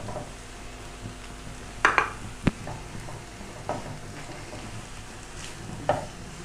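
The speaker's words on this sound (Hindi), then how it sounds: "फिर इसको मैं मिक्स कर लेती हूँ।" Cornflour batter is mixed in a bowl, with a few sharp utensil clinks and scrapes against the bowl over a soft, steady kitchen background.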